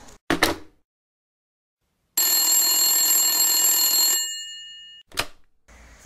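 An old telephone bell rings in one sustained metallic peal of about two seconds, loud and close, between brief clicks and handling noises in a quiet room.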